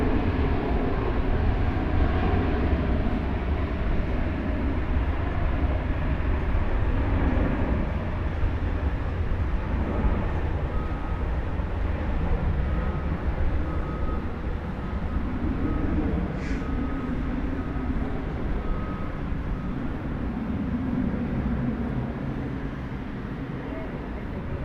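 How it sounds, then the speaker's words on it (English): An American Airlines jet departs DFW Airport for Los Angeles, a steady, distant roar of engines that holds evenly and fades slightly at the end, with no voices over it. "So here goes the American Airlines flight to Los Angeles"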